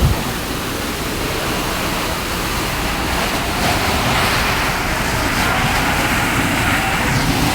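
Fire hoses pour heavy streams of water onto a burning jute-waste warehouse in Tongi, making a loud, continuous rushing hiss like a waterfall that holds steady throughout.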